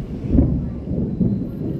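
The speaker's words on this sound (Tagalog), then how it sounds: "Kulog na naman." Thunder rumbles as a low, rolling boom with two swells, loud and close, filling the short stretch without any voice over it.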